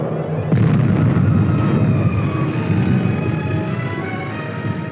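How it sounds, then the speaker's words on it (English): Artillery fire on enemy positions in a combat setting: a sustained, loud roar of heavy booms and rumbling blasts rolls on continuously throughout, dense and thundering with no speech. "the team commander asked that the artillery shift its fire to enemy positions on the"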